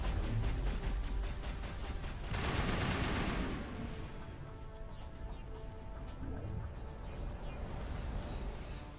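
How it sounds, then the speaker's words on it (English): Rapid gunfire from a gun firing fast three-round bursts in Mass Effect 1, loud and close at the start, then giving way to quieter, lingering combat ambience. "This gun has a really weird like fire rate. It's like a really fast 3-round burst."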